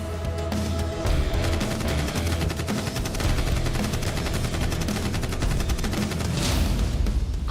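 Rifle gunfire rattles in dense, rapid bursts with sharp repeated cracks, loud and continuous for several seconds, with no voices over it.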